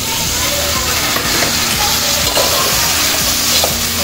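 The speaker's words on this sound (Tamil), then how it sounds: "தக்காளியும் சேர்த்து நல்லா அப்படி கிண்டி விட்டுட்டு" Okra gravy with tomatoes being stirred in a pan, a steady loud sizzle and hiss with scraping stirring strokes throughout and no pause.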